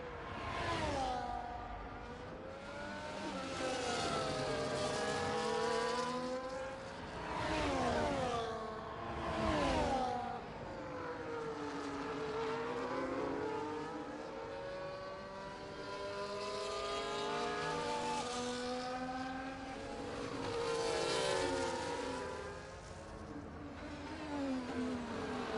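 Race cars in a Monaco racing game scream past in repeated waves, engines rising and falling in pitch as they pass, upshifting and downshifting through the street circuit, loud and continuous without speech.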